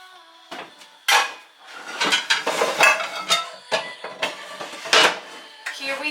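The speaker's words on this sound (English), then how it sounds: "Here we have our pan." A metal baking pan for chocoflan is pulled out and handled in a home kitchen, with a run of close clanks, scrapes and knocks of varying loudness.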